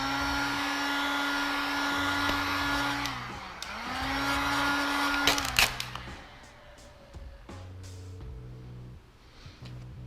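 A heat gun blows a steady, close airy whoosh over vinyl wrap on a Nissan 370Z roof, its tone dipping briefly as the gun shifts, then running on with light handling taps and a softer hiss near the end.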